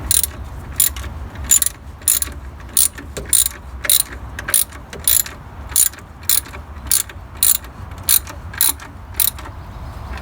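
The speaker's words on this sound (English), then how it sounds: "I'm going to go ahead and tighten the idler pulley here." Ratchet wrench tightening the idler pulley bolt on a Jeep Cherokee XJ during water pump replacement, giving regular close bursts of sharp pawl clicking with no speech.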